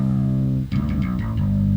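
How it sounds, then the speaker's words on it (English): A sustained, heavily distorted synth bass drone run through a Distressor compressor, gritty and saturated, with a brief dip and a rougher, buzzing texture after it. "You can hear it's really grunging the bass up"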